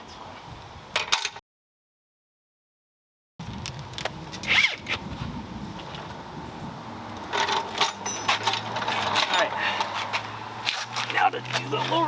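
Ratcheting wrench tightening an upper control arm bolt on a fifth-generation Toyota 4Runner, quick close clicking bursts in short runs broken by a silent gap, with a faint hum underneath later.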